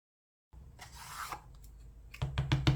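Paint is scraped off a pour-painting canvas in short, dry rasping strokes, a few quick scrapes followed by louder, choppy scratches toward the end, close and fairly quiet, with no voices.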